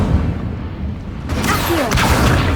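An Incendio fire spell cast in Hogwarts Legacy, a low rumbling bed that bursts into a loud whooshing, crackling blaze about halfway through and keeps roaring to the end.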